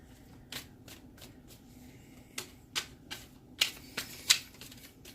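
Cards are shuffled in several quick riffling bursts, crisp and close, separated by short pauses over a quiet background hum.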